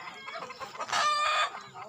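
Chickens at a poultry farm beside a forest cluck in a short close burst, one bird letting out a loud strained call mid-clip.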